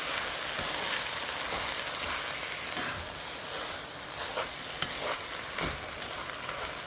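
Rice is stirred as it fries in a pot, giving a steady, close sizzle with occasional scraping, clattering strokes and no voices.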